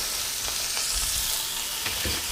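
Beef short rib searing in a hot pan, a steady close sizzle and crackle of frying fat with a few soft scrapes and bumps, no voices.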